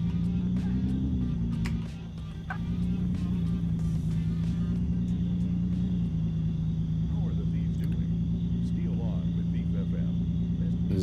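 Steady low engine drone of a car driving in the Thief Simulator 2 game, a constant rumble with a brief dip near the start, running under speech throughout.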